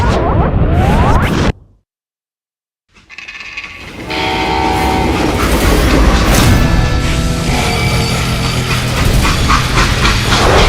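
A train in the Western video game Call of Juarez: Gunslinger rumbles loudly after a brief silence, its heavy rolling clatter joined by a sustained horn or whistle, close and continuous.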